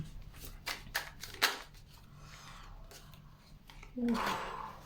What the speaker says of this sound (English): I'm gonna live shuffle from the Royal Dark Tarot.